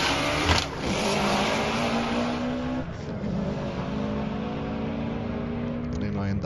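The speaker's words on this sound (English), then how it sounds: "Now this is mine and Tom's run from outside the car." Powerful car engines roar and accelerate hard side by side in a roll race, pitch climbing through gear shifts, loud and sustained with wind noise and some talk underneath.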